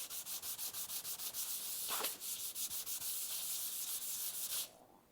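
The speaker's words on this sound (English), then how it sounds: "So I've got 220 sandpaper here on my bench. I'm just going to abrade that face." Hand sanding a wood face with 220 grit sandpaper on a bench: a close, steady run of rhythmic back-and-forth rasping strokes, about a dozen in quick succession, ending abruptly.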